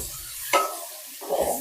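Chillies fry with turmeric in a pan, a soft sizzle broken by a sharp stirring scrape partway through, fairly close and short.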